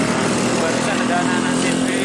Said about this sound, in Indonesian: Sore hari ini memang banyak anak-anak motor sedang melintas di jalur Gumitir ini